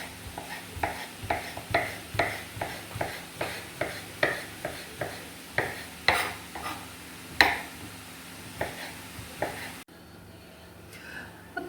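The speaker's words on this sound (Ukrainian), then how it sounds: "Паличку нарізаю на три частини і тоді отак." A knife taps repeatedly on a board in a steady rhythm, cutting soft crab sticks, close by, before the sound stops near the end.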